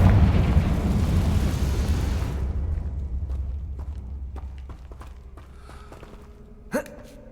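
A Confringo spell explodes in the Hogwarts Legacy video game: one loud, broad blast that rumbles and fades over a couple of seconds. Scattered small impacts and a brief sharp pop follow near the end.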